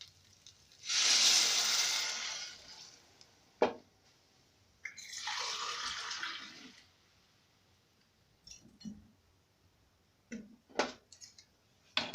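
Water poured from a measuring glass into a pot for pizza dough, two separate pours each lasting a few seconds, followed by scattered light clinks and knocks in a quiet kitchen.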